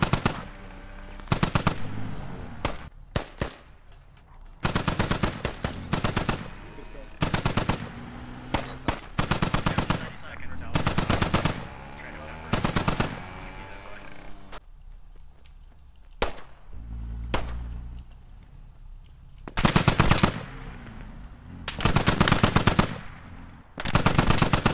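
Gunfire in the military shooter video game Squad, with loud bursts of automatic fire and single shots coming in repeated clusters, separated by quieter gaps filled with distant background rumble.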